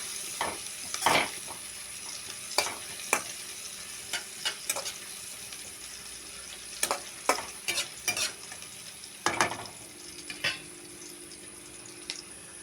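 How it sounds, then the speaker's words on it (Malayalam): Onion and green chillies frying in a pan, a quiet background sizzle broken by scattered sharp stirring clinks and scrapes, with a faint trickle of running water near the end. "ഇപ്പോൾ ഉള്ളിയും പച്ചമുളകും ഇട്ടിട്ടുണ്ട്"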